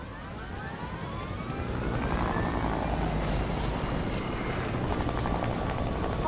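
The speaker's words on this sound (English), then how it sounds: "There's a chopper." Helicopter in a first-person shooter game, a steady rotor and engine drone that swells louder after the first couple of seconds and holds at close range, with no talk over it.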